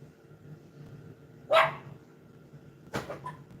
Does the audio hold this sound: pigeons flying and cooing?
no